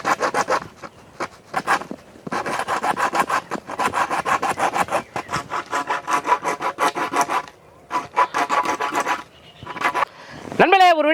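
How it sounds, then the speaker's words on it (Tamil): A PVC pipe is cut with a hand saw, giving close, rhythmic rasping strokes in bursts separated by short pauses, ending with a brief sharp squeak. "இப்போ அடுத்து நம்ம வந்து பிவிசி பைப் வந்து நம்ம வந்து கட் பண்ணி எடுத்துக்க போகிறோம்"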